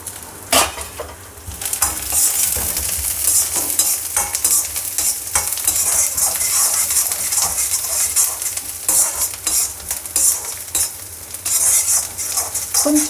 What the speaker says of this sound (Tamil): கொஞ்சம் கலர் சேஞ்ச் ஆகிற அளவுக்கு வதக்கிப்போம்